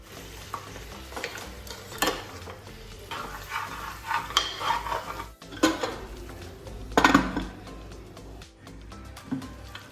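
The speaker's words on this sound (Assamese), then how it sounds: "এইখিনি ঘনে ঘনে লৰাব লাগিব নহ'লে লাগি যাব" A spoon scraping and stirring chicken korma in a kadai pan, with irregular metallic clinks and scrapes over a soft sizzle of frying, close and fairly loud, no voices.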